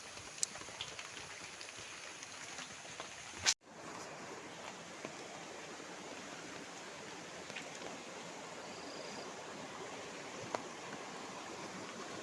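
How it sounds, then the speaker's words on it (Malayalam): Water flowing in a stream near a home, a faint, steady hiss of running water with one brief knock partway through. "നമ്മുടെ തോട്ടിലെ വെള്ളമാണ് കേട്ടോ."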